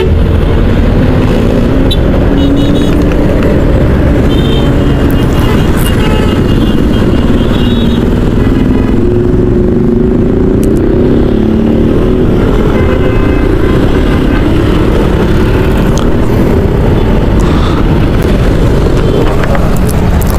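Idling car and motorcycle engines rumble steadily in stalled evening road traffic near a trade fair, a dense, loud drone buffeted by heavy wind noise on the microphone for the whole stretch.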